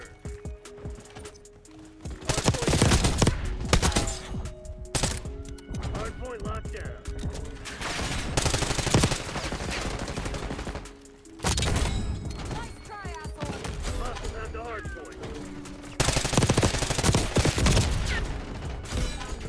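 C9 submachine gun fire in Black Ops 6, rapid bursts of automatic shots with mechanical clatter and in-game effects, bursts separated by short pauses, with someone talking over the gameplay.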